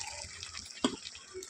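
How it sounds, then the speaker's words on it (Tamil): Water splashes briefly into a pan of chicken masala for a green chilli chicken fry, a soft trickle with one sharper splash midway, faint and close. "நான் அந்த மசாலா அரைச்சி வச்சுருந்த தண்ணி அதுவே கொஞ்சம் தண்ணி கலந்து சேர்த்துக்கிறேன்"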